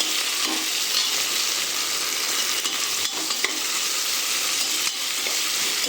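Chopped green chili frying in a pan of hot oil for green peas pulao, a steady broadband sizzle that stays loud and even throughout, with a few faint stirring clicks and no voices.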